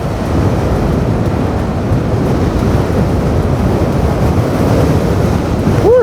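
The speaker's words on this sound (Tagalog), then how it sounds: "Lakas ng hangin." Strong wind at a beach resort in Maasim, Sarangani roars steadily against the microphone, a continuous loud rushing with a watery, surf-like texture throughout.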